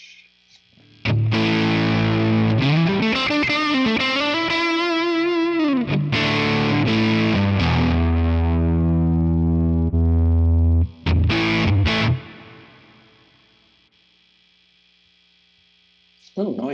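A distorted electric guitar plays through a Quad Cortex amp capture with a built-in cab. Ringing, sliding notes and chords sustain loudly for about eleven seconds, then a few sharp strums follow before everything fades into a low, steady hum.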